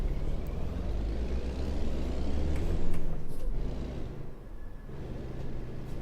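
A Kenworth W900 truck in American Truck Simulator rumbles with a steady low engine drone, swelling briefly as the engine brake engages and then easing down, heard alone without talk.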